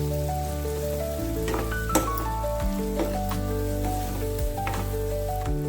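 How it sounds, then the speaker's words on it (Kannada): Okra palya frying in a pan after salt is added: a steady, loud sizzle holds throughout, with a few brief clinks and scraping sounds from stirring, and no talking. "ರುಚಿಗೆ ತಕ್ಕಷ್ಟು ಉಪ್ಪು ಇಷ್ಟನ್ನು ಹಾಕಿ ಪುನಃ ಸ್ವಲ್ಪ ಫ್ರೈ ಮಾಡಬೇಕು."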